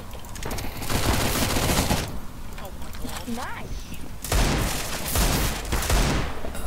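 Rapid bursts of gunfire from a Counter-Strike: Global Offensive match crackle loudly and almost continuously, with dense volleys near the start and again toward the end, broken by a quieter stretch where a voice talks over the game.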